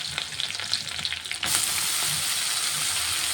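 Radish greens hit a hot pan and fry with a sudden loud hiss that jumps up halfway through, preceded by scraping stirs, then a steady close sizzle continues to the end.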